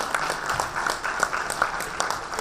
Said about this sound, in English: let's be blessed with the double clapping sound for him